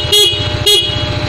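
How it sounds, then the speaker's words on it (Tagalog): Two short honks from a Yamaha Mio Soul i125 scooter horn sound close and loud over an idling engine's steady putter. "Busina for Miyusoul i125."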